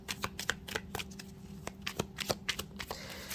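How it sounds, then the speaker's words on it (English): Tarot cards being shuffled close by, a steady run of crisp riffling and slapping bursts with no talk over them. "let me get a shuffling going"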